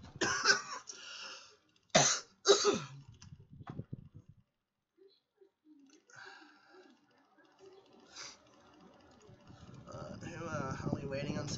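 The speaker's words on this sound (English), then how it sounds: "Stupid cough won't go away." Repeated harsh coughing from a sick person, a burst of several coughs at the start followed by a few more, close and loud, with quieter background noise and talk later.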